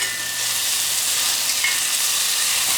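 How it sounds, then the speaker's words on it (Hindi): Onions and tomatoes fry on high heat for a mutton boti masala, giving a loud, steady, close sizzle that continues without a break. "इन्हें तेज करके 2-3 मिनट के लिए बढ़िया फ्राई कर लेंगे"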